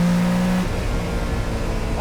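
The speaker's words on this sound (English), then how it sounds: "Yes, it's a Lamborghini Countach." Ferruccio Lamborghini's personal Lamborghini Countach engine drones loud and steady for about two seconds, with no voices over it.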